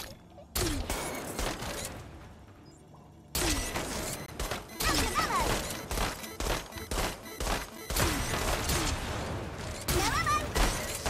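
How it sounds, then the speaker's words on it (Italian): Worms Rumble weapons fire in a chaotic match, a sheep launcher shooting sentries: repeated loud bangs, crashes and impacts in irregular bursts, with short pauses between clusters and no voices over the action. "La lanciapecore spara sentinelle."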